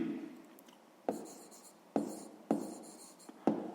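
Chalk or marker writing a math formula on a board during a sixth-grade lesson, with several sharp taps and scratchy strokes spaced through the stretch, close and clear with no talk.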